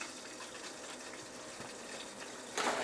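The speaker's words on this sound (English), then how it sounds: "Trip over some hoses, turn some water on here," Water rushes steadily from a hose onto gold prospecting equipment, a close, continuous gushing hiss that swells slightly louder near the end.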